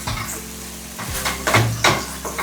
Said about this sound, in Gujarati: ગેસની ફ્લેમને અહીંયા હવે ધીમી કરી દઈએ છીએ અને અડધી મિનિટ સુધી આપણે એને પકાવતા રહીએ સોયા સોસને.